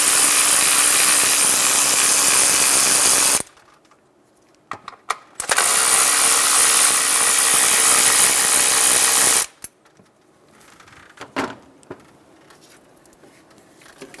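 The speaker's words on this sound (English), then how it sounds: "Remove the two 10mm bolts on top of the valve cover for the harnesses." A power tool, likely an electric ratchet or impact driver, backs out the 10mm bolts on top of a 2003-2008 Honda Pilot valve cover in two long loud whirring runs, with short clicks and clanks between them.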